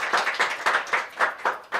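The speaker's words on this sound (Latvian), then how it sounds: "Aplausi studijā." Studio audience applause rings out in a coffee-themed studio show, with about seven swelling bursts of clapping over under two seconds. No one speaks.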